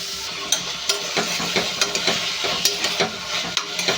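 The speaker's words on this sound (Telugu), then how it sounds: "ఉల్లిపాయలు అయితే ఫ్రై చేసుకున్నామండి" A large batch of onions fries hard for chicken curry gravy, a dense close sizzle broken by regular scraping and knocking strokes of a spatula turning them in the pan.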